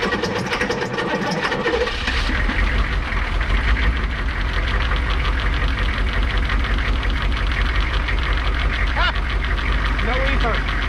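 A Humvee engine cranks and catches, then runs with a steady, loud, rough idle and knocking rumble that carries on throughout, with people talking nearby over it.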